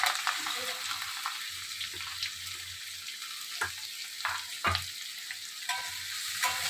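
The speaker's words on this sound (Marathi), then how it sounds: "कांदा चांगला लालसर आणि मऊ होईपर्यंत भाजून घेऊया." Chopped onion frying in a pan with curry leaves and chillies for paneer bhurji, a steady soft sizzle broken by several scraping stirs of a spatula, close and fairly quiet.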